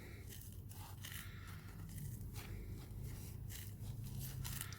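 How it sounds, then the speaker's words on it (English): Scissors snipping and scraping through a foam buffing pad used for scratch removal and polishing, a close, quiet run of rough cutting and rustling strokes over a low steady hum. "So I'm just going to cut into it using a scissor."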